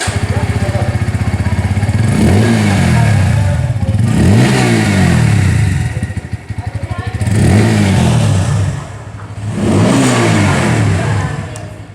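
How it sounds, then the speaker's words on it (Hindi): The exhaust of a 2023 Bajaj Pulsar P150 BS6 motorcycle idles with a loud, close rumble and is blipped through several quick revs that rise and fall. "चलिए एक बार मैं आप लोग को जो एग्जॉस्ट साउंड है वो मैं आप लोग को यहाँ पर एक बार सुना दूं।"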